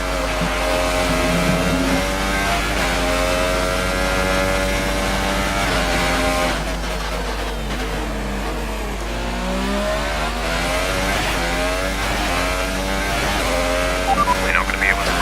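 A Formula 1 car in the F1 2018 racing game revs hard on its final lap, engine pitch climbing and dropping through gear changes in a continuous loud whine, with a voice speaking over it.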